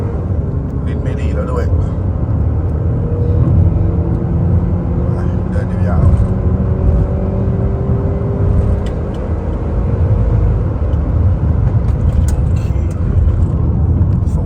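Remapped Honda CR-V G4 with a 2.0 engine on 95 gasohol, 18-inch wheels and air conditioning on, pulling hard in a speed test, a loud droning engine note rising in pitch through the gears while someone talks over it.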